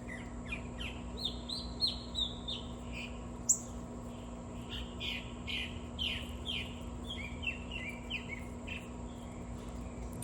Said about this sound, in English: And just listen to the birds for a second.